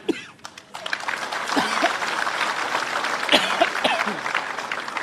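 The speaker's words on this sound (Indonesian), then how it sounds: "sekali lagi kita beri tepuk tangan yang meriah" Applause from a crowd at an Indonesian political gathering with the PDI Perjuangan party chair, steady dense clapping building after a few sharp early claps, with some voices and chuckles mixed in.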